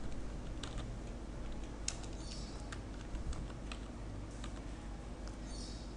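Steady typing on a computer keyboard while building an employee database in Access 2007, quick light clicks running continuously over a low hum, close and without talk.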